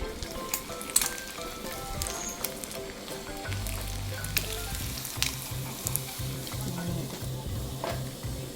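Fried eggs crisp up in hot oil, a dense, continuous crackling sizzle full of tiny pops and spits, fairly quiet, with a brief low hum partway through and no talk.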